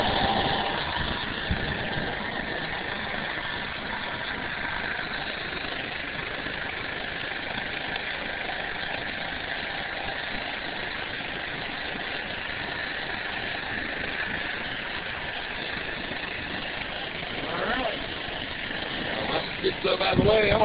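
A scooter engine converted to run on hydrogen keeps up a steady, mid-pitched idle-like hum for the whole stretch, with a slight rise near the end, and voices talking faintly alongside it.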